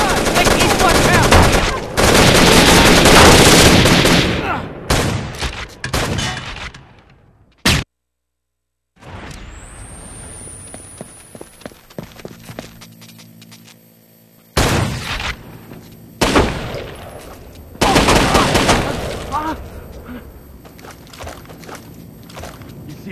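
Rainbow Six Vegas 2 co-op gameplay with loud bursts of automatic gunfire, dense rattling volleys broken by sudden silences and scattered single shots, while players shout to each other.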